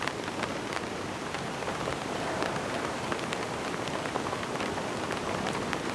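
Heavy rain drums steadily on a tent at a solo camp, a dense, constant close patter with sharper individual drops, and no voices.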